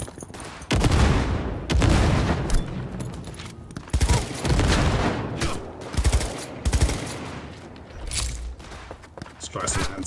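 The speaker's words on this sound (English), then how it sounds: "Get some explosions going on." Loud bursts of rapid gunfire and booming explosions in quick succession in the video game Cyberpunk 2077, with brief pauses between volleys and some voices mixed in.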